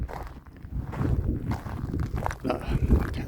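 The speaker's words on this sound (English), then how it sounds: "Here comes the wind." Gusting wind at the Roaring Gulch mine, buffeting the microphone in uneven low rumbling surges that rise and fall over a few seconds, close and fairly loud.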